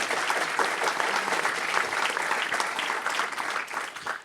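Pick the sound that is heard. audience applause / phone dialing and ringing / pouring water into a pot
audience applause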